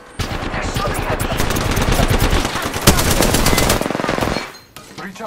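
Rapid automatic gunfire in Apex Legends, loud and sustained for about four seconds of close, continuous bursts before stopping abruptly.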